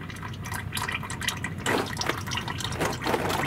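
Engine oil drains from the oil pan of a four-wheel-drive Ford Excursion V10 in a steady, splashing stream, poured near and continuous with no talk, briefly strengthening midway through.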